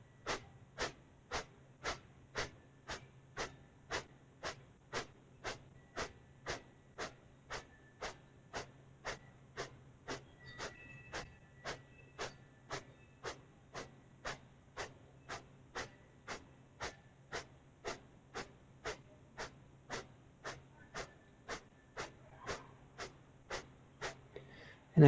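During a chair yoga session, one person breathes in a steady rhythm of short, forceful exhales, repeated dozens of times at an even pace and heard close and clear in a quiet room.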